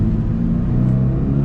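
Toyota GR86 with its updated 2.4-litre naturally aspirated engine pulling as it drives, a loud, close, low droning note that climbs slightly over a brief stretch.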